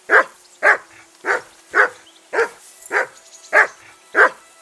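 Regular, loud barks from a dog in the video game Kingdom Come: Deliverance II, eight sharp woofs evenly spaced and close, with nobody talking.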